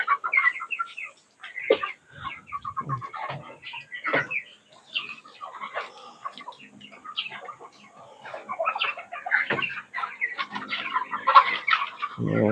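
Chickens cluck and squawk in irregular bursts at feeding time, close and fairly clear, with a brief spoken word among them.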